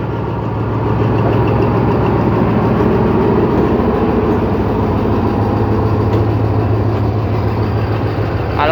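A suburban diesel train, service 301 from Bangkok to Lopburi, idles and pulls out of Bang Sue Junction station, its engine rumbling loudly and steadily close by with no talk over it.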